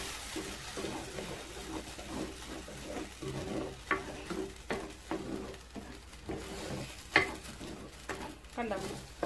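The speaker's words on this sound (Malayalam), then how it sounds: "നന്നായിട്ട് ഞാൻ ഇതിപ്പോ ഇളക്കി കൊടുക്കുകയാണ്." Ginger curry stirred in a pan on the stove, with a faint sizzle beneath repeated scraping and clinking strokes of a spoon at an uneven rhythm, fairly quiet, with a bird faintly audible in the background.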